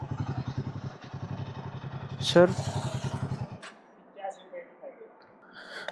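A motorcycle idles with a steady low chugging pulse at a toll gate, close and fairly loud, then cuts out partway through, leaving quieter background sounds with a brief spoken word from a rider.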